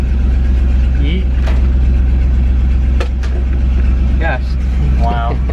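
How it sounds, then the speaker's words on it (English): A pickup truck's engine idles loudly through its exhaust in a steady, continuous low rumble, with people talking briefly over it. "hopefully you guys can hear me over the exhaust"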